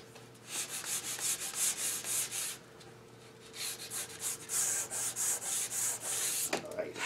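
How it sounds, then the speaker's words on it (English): Sandpaper rubs a cherry wood picture frame in quick, rhythmic back-and-forth strokes, close and fairly loud. The strokes come in two runs separated by a short pause and end with a brief knock. "using the same edge of the piece of sandpaper really, really gobs it up quickly"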